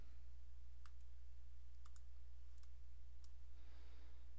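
A computer mouse gives a few sharp, faint clicks, some single and some doubled, spaced irregularly against a quiet background hum.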